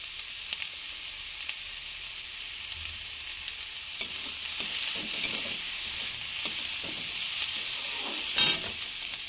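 Food fries in a pan in a home kitchen, giving a steady, close sizzle broken by scraping stirring strokes, with no talking.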